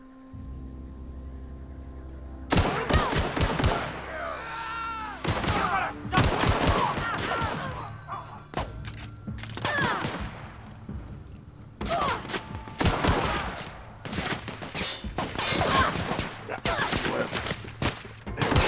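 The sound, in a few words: machine gun fire in the video game The Outer Worlds 2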